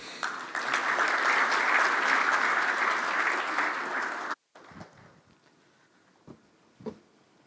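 A conference hall audience at a supply chain event gives a sustained round of applause that cuts off abruptly, leaving a quieter room with a few faint thumps and shuffles.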